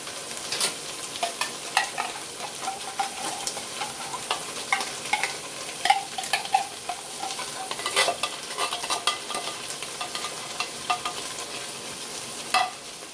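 Broth added to a hot pan of golden mushrooms for a family superburger recipe, a steady close sizzle with repeated stirring scrapes and clicks, no talking.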